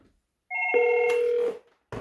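A Fanvil XU series VoIP desk phone rings for an incoming call, one short electronic ring burst lasting about a second, close and clear in a quiet room.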